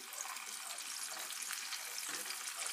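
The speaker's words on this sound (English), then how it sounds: "Like, the actual frying of it." Steady crackling sizzle of chicken frying in hot oil, close and continuous, with no voices.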